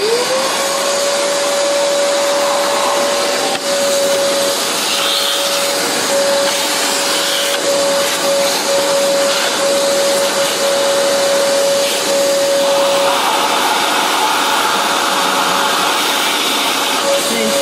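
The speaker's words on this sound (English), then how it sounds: "Let me vacuum this off again." A loud vacuum cleaner cleaning a Mazzer Mini coffee grinder runs continuously with a steady high whine, unbroken for the whole stretch.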